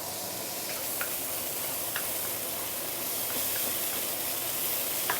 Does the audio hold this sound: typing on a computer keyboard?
no